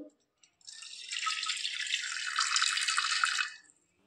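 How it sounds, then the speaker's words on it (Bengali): Water splashes in a steady stream into a pot of vegetables being prepared for a pressure cooker, a close pouring rush lasting about three seconds before it stops. "এবার দিয়ে দেবো জল"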